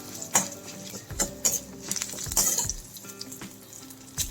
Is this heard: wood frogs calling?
no